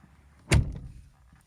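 A 2000 Mercedes-Benz E200 CDI W210 car door shutting once, a single solid, heavy thud with a short dull decay, close by and otherwise quiet.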